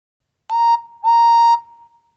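A train guard's whistle gives two clear, shrill blasts, a short one followed by a longer one, loud and close with nothing else heard.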